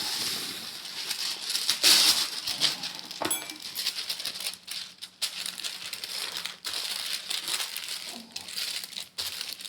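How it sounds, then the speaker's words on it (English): Wax paper crinkles and rustles close by as meat is laid between sheets and flattened for polpettone, in irregular crackling bursts with brief quieter gaps. "Now, I'm going to go ahead and lay out this wax paper."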